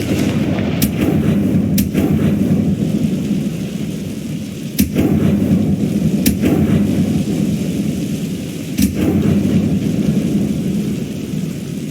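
Confringo explosive spell cast in Hogwarts Legacy, a few sharp blasts cracking out over a loud, dense rumble of game ambience, spaced a couple of seconds apart.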